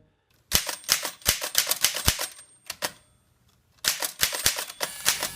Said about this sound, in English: Typewriters were vital for offices, writers, and students in the 1930s.